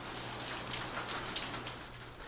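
Steady rain falls outdoors at a dockside restoration site around HMS Victory, a continuous even hiss of drops on surfaces with a low hum beneath, no voices.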